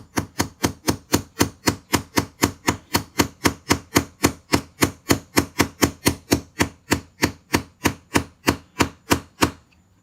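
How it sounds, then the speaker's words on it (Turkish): A pin tapped into a SAR9 pistol with the soft polymer face of a mallet, about thirty light, evenly spaced knocks in a steady rhythm, close and clear with no voices. "Şöyle yumuşak polimer tarafıyla hafiften vurarak"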